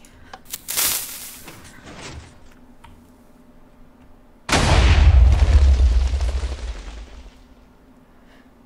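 A TNT cannon in Minecraft fires: a sharp crackling burst is followed a few seconds later by a loud, deep booming explosion that rumbles and slowly fades away.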